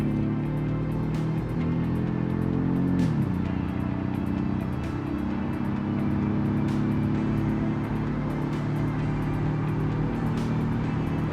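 The 1975 family wagon in the BeamNG racing game runs at full throttle, a loud sustained engine drone that dips briefly with a gear change and then climbs steadily, with regular faint ticking on top and no talk.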